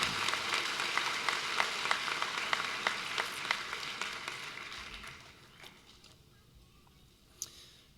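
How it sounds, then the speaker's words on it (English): An audience at a graduation ceremony applauds, dense clapping that holds steady for several seconds, then fades out to a near-quiet room with a stray clap near the end. "Fellow graduates, if you would join me in showing our appreciation to those cheering us on today."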